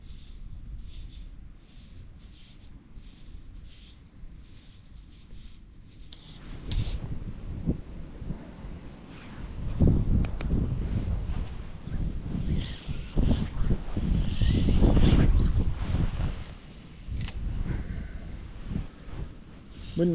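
Wind buffets the microphone beside a fishing lake. It starts as a softer rumble, then swells into heavy, gusty low-frequency thumps and roars that peak near the middle and then ease a little. No voice is heard.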